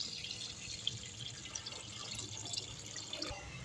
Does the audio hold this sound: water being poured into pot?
yes